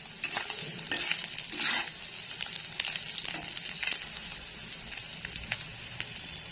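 Egg bhurji frying in a pan with salt, stirred now and then, giving a soft steady sizzle broken by scattered scraping clicks of a spoon against the pan; no one speaks.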